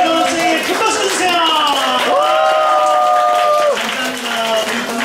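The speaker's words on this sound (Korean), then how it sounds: "우리 대통령께 큰 박수 주세요." A church congregation at a Sunday worship service claps for the president, a steady wash of applause running under a loud, drawn-out voice that holds sustained tones over the clapping.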